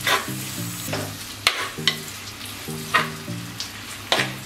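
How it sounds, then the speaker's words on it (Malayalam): Onion and curry leaves sautéing in a pan for a pepper crab roast, with a steady sizzle broken by repeated sharp scrapes and clinks of a spoon stirring, close and fairly loud with no talk. "അപ്പം നമ്മൾ സവാളയും വേപ്പിലയും കൂടി ഇട്ടിട്ട് നമ്മൾ ഒന്ന് വഴറ്റി കൊടുക്കുകയാണ്."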